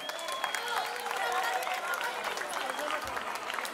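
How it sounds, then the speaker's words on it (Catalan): Applause from a crowd at an outdoor festival concert by a band at a town's Festa Major, a steady mid-level wash of clapping with scattered cheers and faint voices mixed in. "Un aplaudiment per totes vosaltres!"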